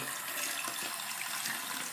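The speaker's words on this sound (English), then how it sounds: "You left your faucet on overnight." A leaky faucet runs with a steady, continuous hiss of flowing water, fairly faint and uninterrupted.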